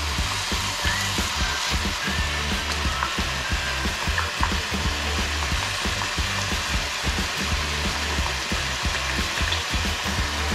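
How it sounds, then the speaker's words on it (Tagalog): Chicken curry with melted tomatoes sizzles loudly in a pan after fish sauce goes in, a dense, steady close frying hiss with faint scraping from stirring. "Lalagay na tayo ng patis."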